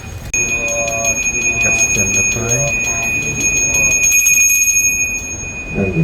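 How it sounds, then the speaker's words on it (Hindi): A temple bell rings near a Nusa Penida temple in Bali, with repeated bright metallic strikes whose tones linger and overlap through the passage, fairly close and clear, while a voice talks partly over them. "मंदिर की घंटी सुनाई दे रही है, मतलब मैं पास ही हूँ।"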